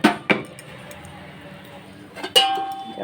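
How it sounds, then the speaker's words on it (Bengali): A metal lid lifted off a pot of cooking rice, with sharp clinks and rattles at the start and again near the end, separated by a quiet stretch of soft bubbling. "এখন ঢাকাটা খুলে দেখবো কেমন হয়েছে।"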